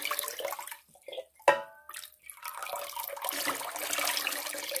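Water is poured from a teapot into a container, a soft trickling and splashing stream that starts after a few light clinks and continues steadily, fairly quiet and close.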